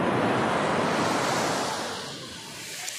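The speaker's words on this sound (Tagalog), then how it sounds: "Oh my God, lakas ng alon." Strong ocean waves surge onto the beach at Nato Beach Resort in Camarines Sur, a loud, dense roar of surf with gusty wind buffeting the microphone.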